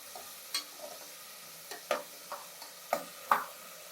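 Onions sautéing in a pan for mutton salna, a faint background sizzle broken by a handful of sparse, sharp spatula scrapes and taps.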